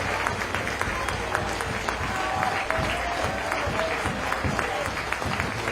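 Stadium crowd at a women's League Cup match between Brighton and Charlton Athletic applauding a substituted player off the pitch, steady broad clapping throughout, with faint voices in the mix.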